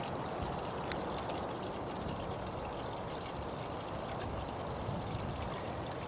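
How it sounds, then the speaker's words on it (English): Water pours steadily from a neighbour's yard, a constant faint rushing and trickling wash that runs unbroken, with no voices heard. "This water just pours in here from his yard, and it doesn't stop 8 months out of the year."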